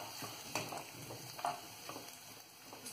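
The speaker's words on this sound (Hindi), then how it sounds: "इसको अच्छे से भून लेंगे।" Ingredients for mutter paneer being fried and stirred in a pan until browned, giving a soft steady sizzle broken by a few louder scraping stirs, heard close with no talking.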